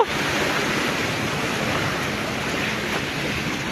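Steady roaring surf from tsunami waves hitting the beach at Barangay Kitayo, Jose Abad Santos, Philippines, a dense unbroken wash of water noise with some wind and no speech.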